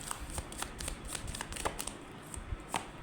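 A deck of tarot cards being shuffled by hand: soft, rapid riffling flutters and light card snaps in quick irregular bursts, quiet and close, with no talking.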